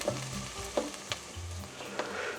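Onions lightly browning in a pan, giving a steady close sizzle and crackle with a few brief stirring knocks and scrapes, no voices.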